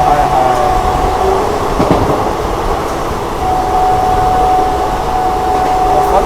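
Inside the 03697 Sheikpura special train as it runs through Fatehpur station at high speed without stopping, a loud, steady rumble and roar continues throughout, with faint tonal whines over the rushing noise.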